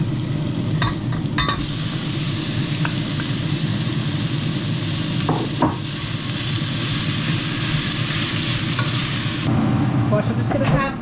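Beef mince sizzles and fries steadily in a loud, dense hiss inside an air fryer, with occasional stirring scrapes and clatters over a constant low hum.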